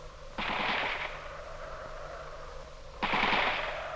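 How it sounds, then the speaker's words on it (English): Two loud bursts of rapid gunfire, one near the start and one about three seconds later, each a rattling volley that fades into a low rumble. "All we could see were stationary trucks and bullets firing at someone hidden beneath."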